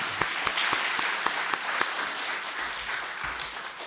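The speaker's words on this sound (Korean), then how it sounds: "한 번 더 우리 은혜로운 찬양에 감사하는 박수하도록 하겠습니다" A church congregation claps for the choir during a Sunday service, a dense, fairly loud burst of applause with a few prominent individual claps, thinning out as it winds down, with a low rumble underneath toward the end.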